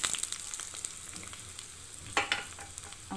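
A tempering of spices frying in a pan for buttermilk rasam, a steady crackling sizzle with a few louder spattering pops, heard close up with no talking.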